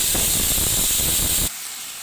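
Mutton with ginger-garlic paste frying in a pan gives a loud, steady hissing sizzle that cuts off abruptly after about a second and a half, leaving a quieter hiss.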